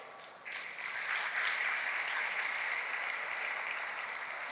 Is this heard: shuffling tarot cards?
no